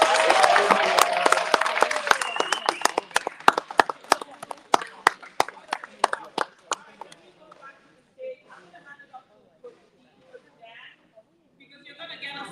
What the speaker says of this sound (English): please can we give a massive round of